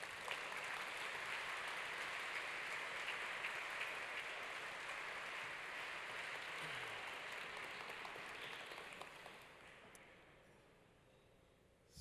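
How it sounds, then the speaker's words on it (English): Sustained applause from a celebration dinner crowd honoring Jean Paul Agon, a broad even wash of clapping that holds steady before thinning out and tapering near the end. "Please give him a very big round of applause."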